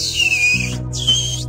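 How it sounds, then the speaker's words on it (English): A person whistling outdoors in a canyon, two short high whistled notes with a brief gap between them, loud and close over a low steady background hum. "about the whistling thing"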